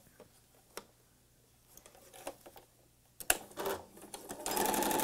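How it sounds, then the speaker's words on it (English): A sewing machine stitches a quarter-inch seam through fabric for a patriotic cathedral window pillow, running in a steady, close burst at the very end after quiet handling clicks and rustles. "I'm going to sew a quarter inch seam just to the point where I'm at the pin"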